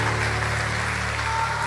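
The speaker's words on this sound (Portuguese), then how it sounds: "vamos aplaudir a ele" Steady applause from a church congregation during a Portuguese-language sermon, a dense continuous wash of clapping at fairly even loudness throughout, with a faint sustained musical tone underneath.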